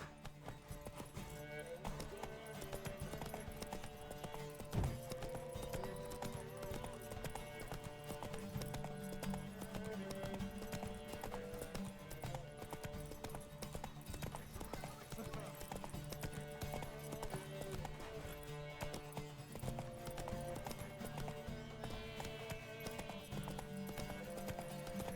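Horse hooves galloping in a steady clip-clop rhythm in the video game Witcher 3, running continuously under music and occasional talk.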